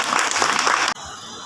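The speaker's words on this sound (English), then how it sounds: "A huge round of applause for them." Audience at an Independence Day and Janmashtami celebration gives a brief, loud burst of clapping that cuts off abruptly after about a second, leaving quieter room noise.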